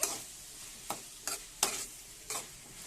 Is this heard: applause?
no